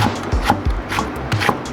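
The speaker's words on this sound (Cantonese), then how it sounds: "咁辣椒一樣啦，我切多少啦。" A knife chopping chili peppers on a cutting board, a series of close, firm thuds in an uneven rhythm of about six strokes, loud and without talk.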